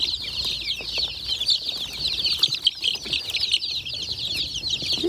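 A week-old blue laced gold Wyandotte chick flaps its wings to avoid being caught, with quick fluttering bursts over a dense chorus of peeping chicks at a feed store.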